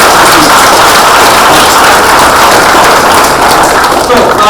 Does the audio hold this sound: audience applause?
yes